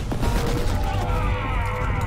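Auto gun firing rapid bursts in the video game Warhammer 40,000: Inquisitor - Martyr, a dense rattling stream of shots with mechanical clatter, loud throughout, while a voice talks underneath.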